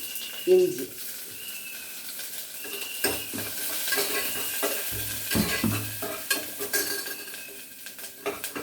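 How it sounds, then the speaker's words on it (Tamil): Curry leaves, green chili and ginger sauté in hot oil in a pan, a close sizzle with scraping spatula strokes and occasional clinks of metal on the pan, faint background voice now and then. "இஞ்சி போட்டு வதக்கியாச்சு"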